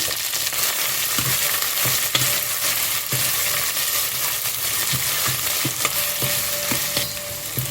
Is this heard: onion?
yes